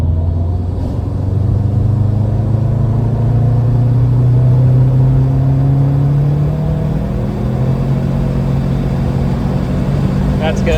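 A tuned Subaru WRX accelerates in third gear on a straight, its engine note rising steadily and loud from inside the car for several seconds, with a brief spoken remark over the rumble.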